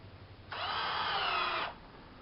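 A power drill drives screws into a joist hoist claw mount in one steady whirring burst of about a second, close and fairly loud, with quiet before and after.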